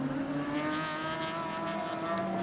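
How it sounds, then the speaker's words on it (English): A 4-cylinder Mini race car engine screams at high revs as it pulls out of a corner complex and up a back straight, a steady sustained whine at moderate distance with no talk. "4-cylinder Mini engine screaming as they pull out of the Moss complex and head up the back straight"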